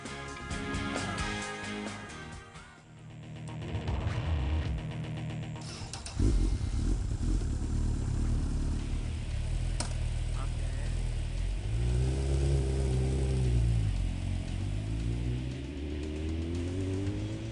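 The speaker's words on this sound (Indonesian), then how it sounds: "Motor sport bermesin 1000 cc ini jadi tunggangan favoritnya." A 1000 cc sport motorcycle engine revs and accelerates nearby, rising and falling in pitch with gear shifts as it rides past amid traffic noise.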